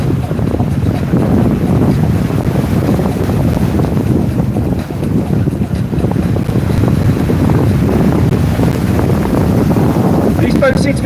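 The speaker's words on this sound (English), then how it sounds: "These boats seem to be handling the conditions very well and they're keeping a very good pace out there" Procat racing powerboats run at speed on open sea off Torquay, a steady loud engine drone blended with wind noise and water rush throughout, with a commentator talking over it.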